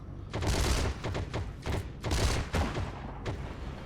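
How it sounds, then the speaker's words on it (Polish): Sustained gunfire from a platoon in the World War II shooter Heroes & Generals: dense, rapid volleys of rifle and machine-gun shots in overlapping bursts, loud and continuous throughout. "Pelotka jakaś tam zawzięcie strzela"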